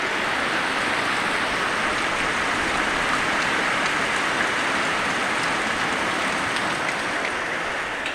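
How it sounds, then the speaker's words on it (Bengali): Heavy rain falls outside beneath a dark sky, a loud and constant hiss that holds steady from start to finish. "ভীষণ বৃষ্টি, আকাশ কালো পড়ে গেছে একদম। তার সাথে অঝরে বৃষ্টি"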